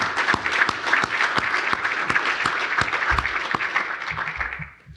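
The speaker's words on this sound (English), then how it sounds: "Let's give Pennsylvania American Water a nice round of applause." An audience at a business and industry environmental conference applauds, a dense burst of clapping with some sharper individual claps standing out, which thins and fades near the end.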